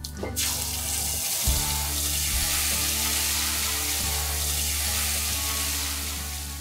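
Spiced tomato puree hits hot oil seasoned with turmeric and asafoetida, a steady, loud sizzle and hiss that runs on without a break, with no talking over it.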